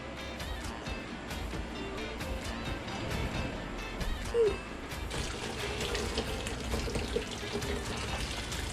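A steady rush of pasta water drains from a pot of spaghetti into a colander in a sink for several seconds, continuous and close, with faint clatter mixed in.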